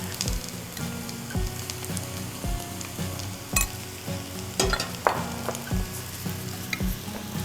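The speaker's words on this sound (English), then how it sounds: "because it's sauteing in that beautiful olive oil from our friends at Spirits and Spice" Mushrooms, artichoke hearts and spinach sauté in olive oil with granulated garlic, a steady close sizzle broken by repeated rhythmic stirring scrapes of a utensil against the pan, roughly one per second.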